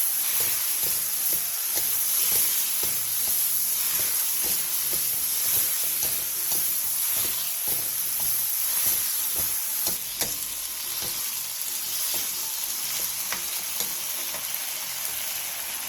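Eggplant stir-fried in oil with a seasoning sauce sizzles steadily in a pan, a dense continuous frying hiss broken by scraping stir strokes throughout, close and fairly loud with no talking.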